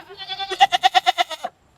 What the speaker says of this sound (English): I'm getting pushed on by some goaties down here.